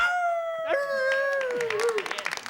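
A DJ imitates a wolf howl on American Bandstand in 1975, a long rising-then-falling wavering tone, followed by a scattering of claps and crowd noise.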